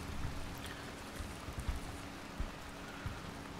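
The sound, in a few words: heavy rain falling in video game Arma 3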